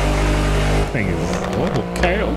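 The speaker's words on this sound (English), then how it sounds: "I've seen a couple Urus, but never heard them that loud." Loud Lamborghini Urus engine in GTA 5 drones steadily, then shifts into revving sweeps with rising and falling pitch, close and prominent throughout.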